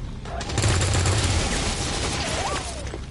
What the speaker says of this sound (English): We're just gonna suppress again, just in case we don't kill him this turn